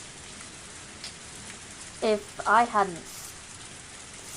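Rain falls in the video game Higurashi When They Cry as a steady, even hiss across the whole stretch, with a short spoken voice cutting in over it midway.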